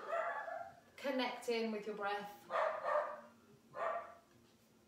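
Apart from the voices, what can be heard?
dog barking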